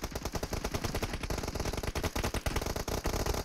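Dense automatic gunfire from the PUBG video game, rapid overlapping bursts of shots that carry on without a break for several seconds, loud and close.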